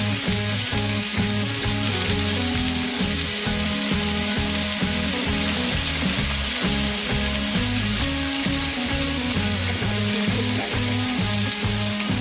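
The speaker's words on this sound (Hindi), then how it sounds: "आपने इसको ऐसे फ्राई करना है जब तक ये गोल्डन फ्राई हो जाए। अच्छे से पनीर को फ्राई करेंगे।" Paneer cubes fry steadily in a pan of hot oil, a loud, continuous sizzle that holds for the whole stretch with no voices over it.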